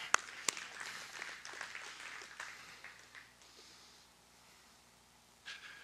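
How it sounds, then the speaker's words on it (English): A small church audience claps briefly, a few sharp claps and a short spatter that quickly fades into quiet room noise, with a faint clap or two near the end. "You go ahead and clap on that one."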